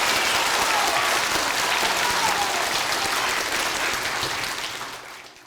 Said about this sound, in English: Let's give all our veterans a nice round of applause